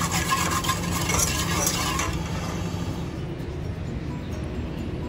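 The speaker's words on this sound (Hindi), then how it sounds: "और इसकी चाशनी हमने तैयार करनी है और चम्मच चलाते रहना है" A spoon stirs sugar syrup for mango jam in a cooking pot, a steady scraping and swirling texture that carries on throughout, with stronger high clatter early and a softer continuous churn later.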